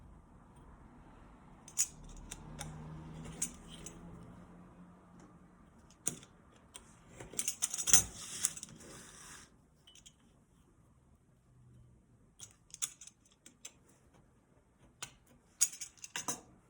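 Scissors cut out a wedge for a box in a quiet room, snipping in short clustered bursts of crisp clicks with pauses between, close and fairly faint.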